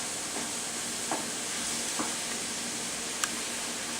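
White button mushrooms cooking down in a pan give a steady, soft sizzle and hiss, with a few faint stirring clicks near the start and one brief sharp tick late on; no one speaks.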